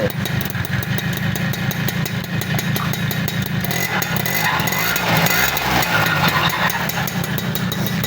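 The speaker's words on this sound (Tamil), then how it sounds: "வண்டி இன்ஜின் வேலை செஞ்சுருக்கோம். இன்ஜினோட பீட்டை கேளுங்க." A restored motorcycle engine idles steadily after its engine rebuild, a loud continuous close-up thumping beat with metallic clatter and no breaks.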